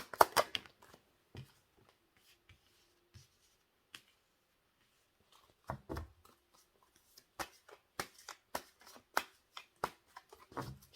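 Tarot cards are shuffled in quick bursts of dry, papery riffles and taps, with quiet pauses between them and no talking.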